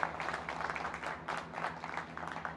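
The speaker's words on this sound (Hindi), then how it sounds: "सब तालियों से बहुत बहुत अभिनंदन करें" Applause from the crowd at an honour ceremony held by a community organisation in a village, steady, dense clapping throughout at moderate distance.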